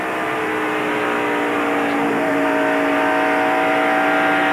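Stock cars roaring at full throttle during the 1993 Splitfire Spark Plug 500 NASCAR race, a loud, dense, continuous engine drone with layered whining tones that slowly rise in pitch.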